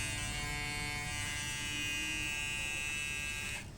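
A Braun Series 5 5090CC electric shaver hums steadily with a bright, constant, fairly quiet buzz, running alone at close range before cutting off near the end.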